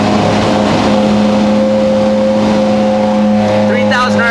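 Ferrari 458 engine held steady at 3,000 RPM with the heater on, a loud sustained droning hum with a constant pitch, and people talking over it near the end.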